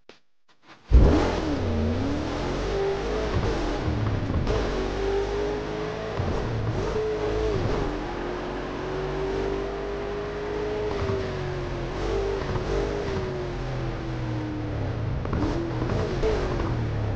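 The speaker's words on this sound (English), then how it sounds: "Hold the accelerator to fire up the engine." Car engine in the Burnout Paradise racing game catching with a sharp start, then settling into a long, rough, sustained rev whose pitch swells and dips repeatedly at a moderate level.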